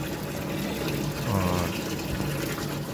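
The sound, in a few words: motor pumping water filling an air cooler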